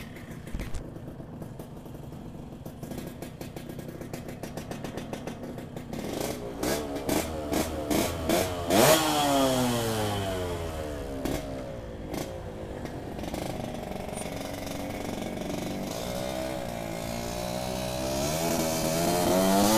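A motorcycle engine cranked by its electric starter, catching with sputtering pulses, then revving up and settling into a rising, falling idle, close by and without speech.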